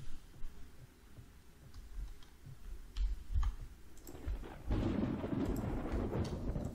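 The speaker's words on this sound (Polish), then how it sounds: "Burza." Thunderstorm weather in the zombie survival game Project Zomboid: quiet rain patter and clicks, a low thunder rumble around the middle, then a heavier, louder surge of storm noise and rain in the second half.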